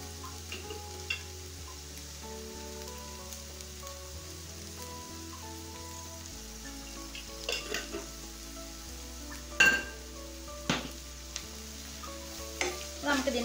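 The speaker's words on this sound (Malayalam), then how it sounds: "നമുക്കിത് നന്നായിട്ടൊന്ന് വഴറ്റിയെടുക്കണം" Ivy gourd (kovakka) stir-fries in a pan for a Kerala mezhukkupuratti, a soft continuous sizzle with intermittent scraping and clatter of the spatula growing busier toward the end.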